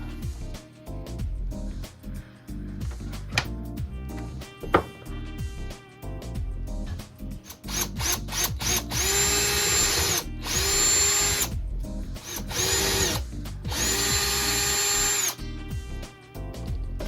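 A power drill bores holes through a push mower deck in close, loud bursts, with whining spin-ups, grinding bites into the metal and short pauses between holes.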